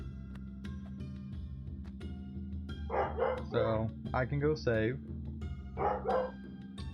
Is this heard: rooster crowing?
no